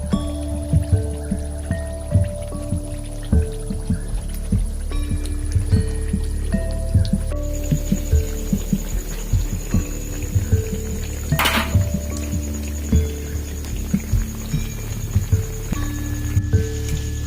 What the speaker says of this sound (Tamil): எண்ணெய்க்குள்ளே போட்ட மாவு எல்லாமே ஒன்றா இப்போ தான் பொரிஞ்சு வெந்து வந்துட்டுருக்கு